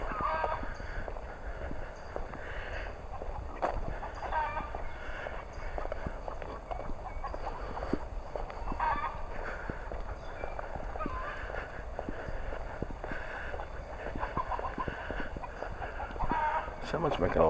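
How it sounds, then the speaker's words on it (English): Chickens cluck and crow outdoors at a Cuban resort, a steady busy birdy chatter with a faint voice now and then in the background. "Sounds like a chicken or something."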